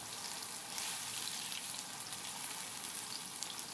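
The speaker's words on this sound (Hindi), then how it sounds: "ये देखिए हमारे बैंगन हमारे फ्राई हो गए हैं।" Eggplant pieces fry on a medium flame, giving a steady, close, even hiss of sizzling oil throughout with no talking.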